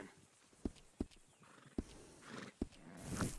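Horse in the video game Red Dead Redemption 2, with four sharp, evenly spaced hoof clops close by, followed by a rising breathy whinny or snort at the end.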